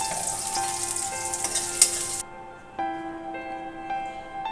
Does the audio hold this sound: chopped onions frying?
yes